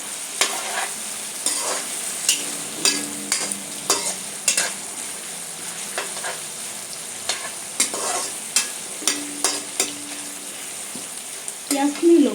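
Onions frying in a pan for a jackfruit masala curry, with steady sizzling broken by repeated sharp scraping and stirring strokes throughout.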